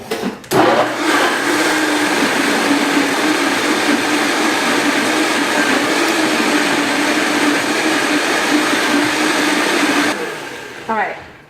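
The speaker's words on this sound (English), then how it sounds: "And then we're gonna blend all this together." A blender whirs loudly and steadily, churning a thick vegan kabocha squash ice cream mixture for about ten seconds before it cuts off abruptly.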